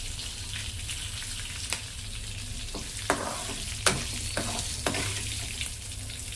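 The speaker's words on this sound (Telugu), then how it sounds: "ఇప్పుడు దీన్ని మనం ఫ్రై చేసుకోవాలి." Okra and prawns frying in a pan give a steady, dense sizzle, with a few sharper pops and stirring clatters rising above it. Nobody speaks.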